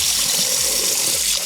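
Rice being rinsed under a running kitchen tap, a steady close hiss of flowing water splashing through the grains and filling a pot, continuous for the whole moment with no talking.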